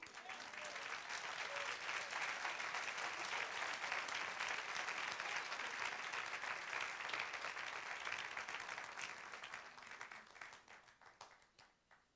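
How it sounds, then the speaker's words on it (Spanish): A church congregation breaks into sustained applause during a sermon, a dense, even wash of clapping from many hands that holds for about nine seconds, then thins and fades to scattered claps. "Sí, dale aplauso."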